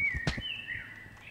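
Birds in Human Fall Flat chirp in a quick whistled call that glides and wavers, over a soft background with a brief thud.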